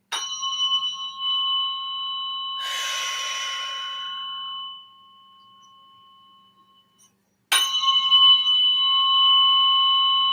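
Tuning fork struck during a biofield tuning session, pure sustained metallic tones ringing out and slowly fading, with a second sharp strike near the end starting a fresh loud ring; no talking.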